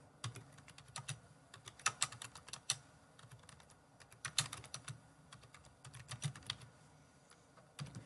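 Fast typing on a computer keyboard, a dense run of crisp key clicks with uneven rhythm and short pauses, close and clear with no voices.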